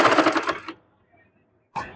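A sewing machine stitches a child's three-quarter-length pants in a loud, close, rapid whirring burst, stops into near silence, then starts up again for a short run.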